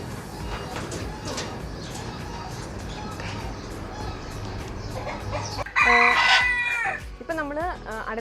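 A macaw calls from its cage at a bird park in Bugibba, Malta. Loud, harsh, wavering squawks burst out near the end over a murmur of background noise.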